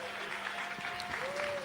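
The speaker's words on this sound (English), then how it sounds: "they're applauding because she's leaving" A studio audience applauds as a guest leaves a talk stream, a dense steady patter of clapping held at an even level with faint crowd noise and a voice mixed in.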